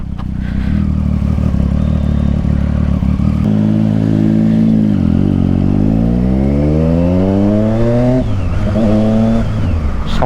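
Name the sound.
Triumph Street Triple motorcycle with Yoshimura exhaust revving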